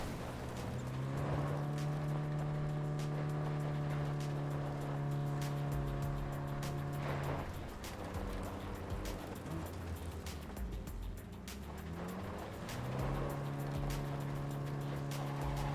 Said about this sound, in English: I'll fire up the engine and we'll speed out of there.